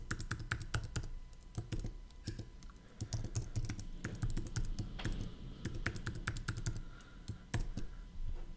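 Fingers type an email address on a computer keyboard, a steady run of close, crisp key clicks with uneven rhythm and a few louder taps, with no talking.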